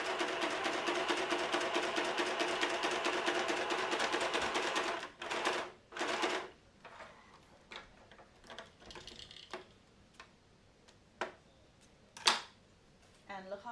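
A home sewing machine runs a test seam on stitch 1, a steady rapid mechanical stitching rhythm for about five seconds, then stops, followed by scattered clicks and handling noises nearby.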